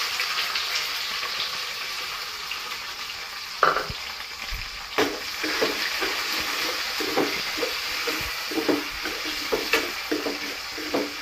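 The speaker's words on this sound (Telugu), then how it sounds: "ఉల్లిపాయ ముక్కలు వేసేసుకోవాలండి" Chopped onion pieces sizzle and fry in a pan for drumstick mango sambar, a steady crackling hiss with occasional stirring knocks and scrapes, close up and without talk.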